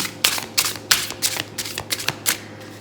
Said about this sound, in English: I'll be shuffling and pulling 3 cards from 4 different decks.